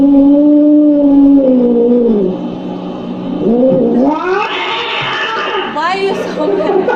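An angry cat growls and caterwauls in long, wavering yowls that rise and fall, loud and close, with people talking over parts of it.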